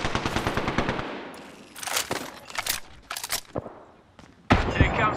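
Rapid automatic gunfire in the Apex Legends video game: a fast rattling burst, then scattered shots and further bursts, loud and close, with a clipped in-game voice line.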